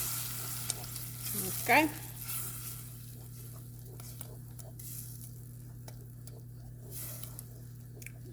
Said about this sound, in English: I'm gonna let that fry up.